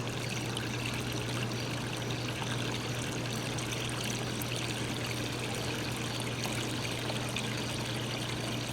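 Pool water draining steadily down as a pump sucks it through the lines while a pool is prepared for closing, a continuous close rushing trickle with a low steady hum underneath, no voices.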